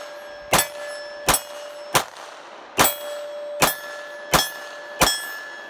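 Seven sharp metallic clangs of CZ pistol rounds striking steel targets, spaced roughly a second apart, with a steady faint ring between impacts and no talk.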